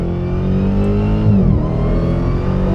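A 2024 Dodge Demon 170 V8 engine revs at quarter throttle, its loud deep growl held steady and close with a brief swell in the middle.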